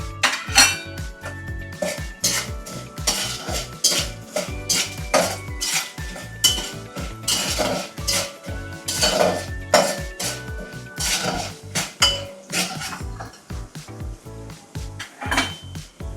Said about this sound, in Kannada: ನೆಕ್ಸ್ಟ್ ನಾನು ಧನಿಯಾ ಹಾಕೋತಾ ಇದ್ದೀನಿ.